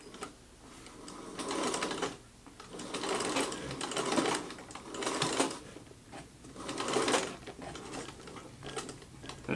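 A vintage treadle sewing machine runs in surges, its mechanical whir and clatter rising and fading roughly every two seconds as the treadle is pumped, close and steady, with no voices.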